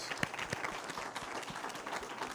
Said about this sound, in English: Let's give Hugo a round of applause